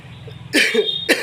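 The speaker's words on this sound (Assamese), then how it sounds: "বহুতো কাহ আৰু চৰ্দি হৈ আছে" Two harsh coughs close by, the first longer and the second a short sharp burst, with nothing else around them.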